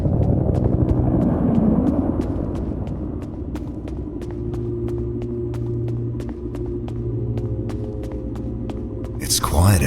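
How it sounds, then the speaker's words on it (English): An evacuation helicopter approaching in a survival horror video game, a low droning rumble with rapid regular rotor chops steadily building in presence, ending in a sudden loud burst. "Is that the evac chopper?"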